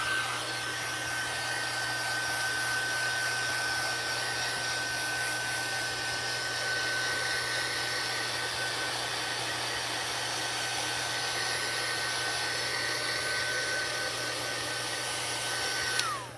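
A hair dryer blows steadily to dry ink on rubber stamp art, a continuous close whir with a faint high whine, running unbroken at even loudness throughout.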